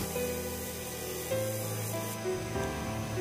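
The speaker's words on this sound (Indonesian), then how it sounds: "kita amplas mulai dari bagian bawahnya dulu, karena saya mau ratakan dan percepat kegiatannya" Rough sandpaper is rubbed by hand over a stone, giving a steady, continuous scraping rasp with slight changes in stroke and no talking.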